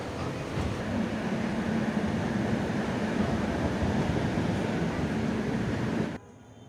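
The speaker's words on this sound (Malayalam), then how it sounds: "ട്രെയിൻ ഇപ്പം തിരുവനന്തപുരം പേട്ട റെയിൽവേ സ്റ്റേഷൻ കടന്നു പോവുകയാണ്" A train rolls past Thiruvananthapuram Pettah railway station with a steady, loud rumble and rushing noise that holds evenly for about six seconds, then cuts off abruptly.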